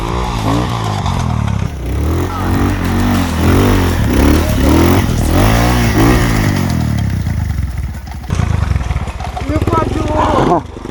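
An enduro motorcycle climbs a steep hill, its engine loud and rising and falling in pitch with repeated revving, heard close with people talking over it throughout.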